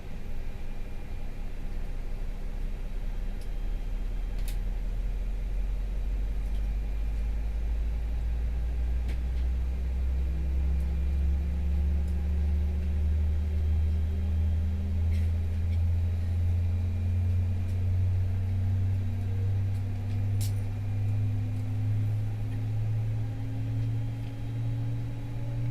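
An Airbus A320 CFM jet engine spools up gradually in a flight simulator game, low whine rising steadily in pitch over about twenty-five seconds beneath a constant rumbling hum.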